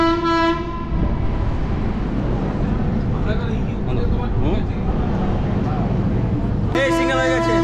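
The Purva Express at a railway station sounds a loud horn blast at the start and again near the end, with a rumbling train and platform bustle in between and people talking nearby.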